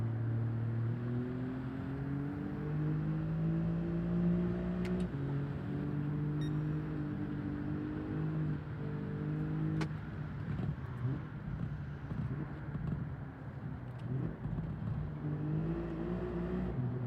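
Race car engine in the Gran Turismo 7 video game, a steady droning whine with clear harmonic bands that shift pitch through gear changes and lifts, fairly quiet and continuous with no talk over it.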